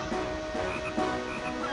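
A golden frog croaks in the Zelda game Phantom Hourglass. It gives a few short, low calls over steady game music and ambience, and no one speaks.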